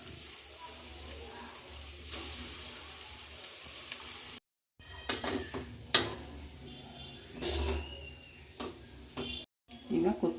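Instant noodles and spices frying in a pan, with a soft sizzle under sharp scraping and clattering stir strokes that come in irregular bursts, broken by a couple of brief silent gaps.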